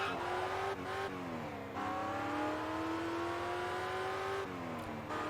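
Engine of an E-Class car in the racing game Test Drive Unlimited, a steady close drone whose pitch climbs through each gear and drops sharply at the shifts, with no talk.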